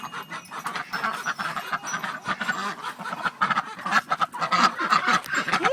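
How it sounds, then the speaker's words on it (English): Domestic ducks quack in a noisy, overlapping flock while being fed crushed egg shells from a pan, their calls close and continuous with a few louder honks mixed in. "And I got to give some to these duckies."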